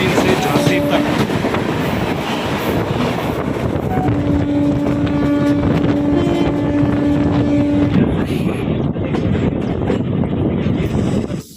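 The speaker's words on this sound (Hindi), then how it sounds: "इंडिया की सबसे तेज चलने वाली ट्रेन गतिमान एक्सप्रेस हजरत निजामुद्दीन से झांसी तक।" Gatimaan Express, India's fastest train between Hazrat Nizamuddin and Jhansi, rumbles past loud and steady with continuous wheel and rail roar, a sustained horn-like tone rising midway and holding for several seconds.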